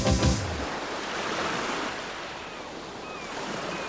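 Sea waves wash onto a sandy beach in a steady, broad surf roar, with some wind noise, heard alone without talk.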